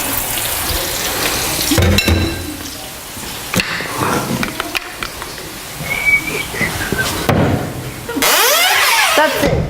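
Onions sizzling in a hot pan while an Italian grandmother makes a frittata, a close crackling hiss that rises when the heat is turned up, with people talking over it and scraping clatters between.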